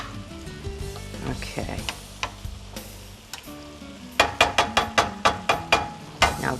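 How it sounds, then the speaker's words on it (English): Mushrooms sizzle in an uncovered sauté pan with a soft, continuous hiss, joined by a quick series of sharp clicking taps near the end. A person briefly speaks over the cooking. "I'm going to uncover it, let the mushrooms cook."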